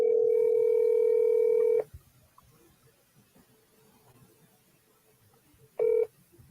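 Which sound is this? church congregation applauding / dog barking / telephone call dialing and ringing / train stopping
telephone call dialing and ringing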